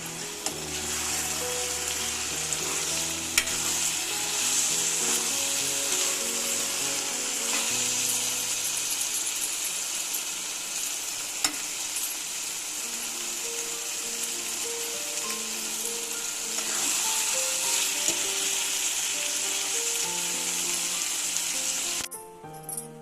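Egg bhurji fries in a pan with pepper powder and coriander leaves, a steady, close, bright sizzle running throughout with occasional scraping stirs, then cutting off abruptly at the end.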